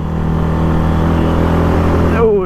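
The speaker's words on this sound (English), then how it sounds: "oh, exhaust sounds good in here." Yamaha MT-125 motorcycle exhaust giving a steady, loud engine drone at idle or low revs, close by, with a brief rising rev toward the end and no talk over it.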